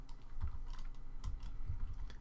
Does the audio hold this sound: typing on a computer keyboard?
yes